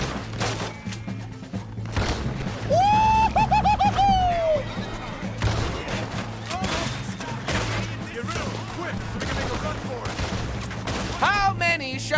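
Repeater rifle shots crack in a rapid burst during a Red Dead Redemption 2 train shootout, mixed with other gunfire and game noise while voices shout over the top.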